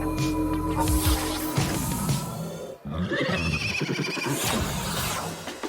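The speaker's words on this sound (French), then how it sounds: "Regarde tous ces chevaux!" Several horses neigh and whinny loudly in overlapping, drawn-out calls, with a brief drop to near silence midway before more whinnies follow.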